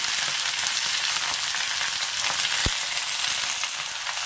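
Cauliflower stalks and potato pieces fry in oil in a pan with a steady, close broadband sizzle, with one brief sharp knock near the end and no voices.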